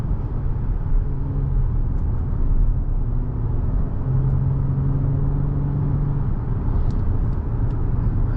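A 2024 Acura MDX Technology with SH-AWD pulling away under acceleration, heard from inside the cabin as a steady low engine and road rumble with a faint rising tone, no talking.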